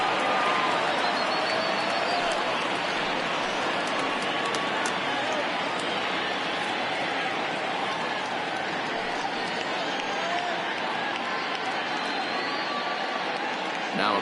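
A baseball stadium crowd of over 31,000 rises and cheers, a dense, sustained roar of voices and applause filling the space evenly without pause.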